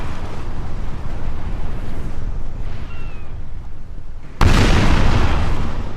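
A 64-gun Austrian warship fires a cannon broadside in a Napoleon Total War multiplayer sea battle, a sudden loud booming blast arriving over steady rumbling battle ambience near the end.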